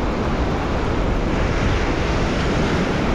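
Ocean waves break on the beach at high tide along the Candeias shore in Jaboatão, Greater Recife, in winter, near breakwaters. The surf is a steady, loud, continuous roar with no talking.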